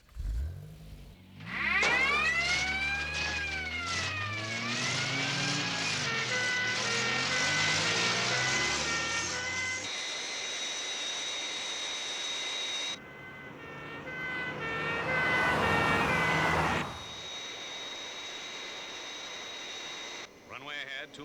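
A Fireflash airliner on landing approach, its engine roar rising and shifting while crash tender sirens wail and warble, loud and close, with voices speaking over the noise.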